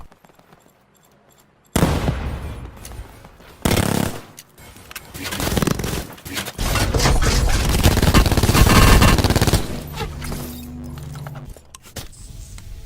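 Gunfire in the battle royale shooter Call of Duty Blackout: loud bursts of rapid shots and sustained automatic fire across several seconds, with clattering game effects and brief pauses between volleys.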